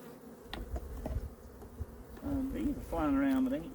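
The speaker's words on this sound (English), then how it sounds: "Bees are flying around, but they ain't seem to be too angry with me yet." Honey bees fly around an open hive during a mid-October colony inspection, their buzzing swelling and fading as individual bees pass close to the microphone, with louder near buzzes toward the end and no speech.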